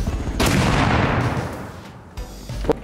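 A cow blown up in a survival video game: a loud, broadband explosive burst that fades over about a second and a half, followed by a couple of smaller thumps.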